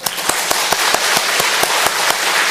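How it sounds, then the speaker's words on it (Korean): A church congregation at a Sunday service claps in welcome for newcomers and returning members, a thick burst of applause punctuated by a few sharp, evenly spaced louder claps, with no talking over it. "여러분, 이분들한테 좀 환영의 박수 한번 할까요?"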